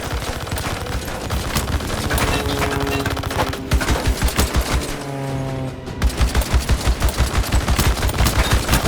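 Rapid machine gun fire in Unknown 9: Awakening, dense continuous bursts of shots that pause briefly, then resume as a steady, loud rattling stream.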